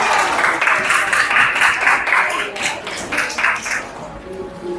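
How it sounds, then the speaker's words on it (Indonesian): Students in a classroom clap for themselves, a burst of uneven group clapping in distinct pulses that fades toward the end. "Tepuk tangan untuk diri sendiri dulu"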